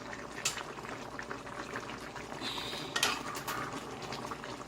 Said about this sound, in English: my fish is steaming down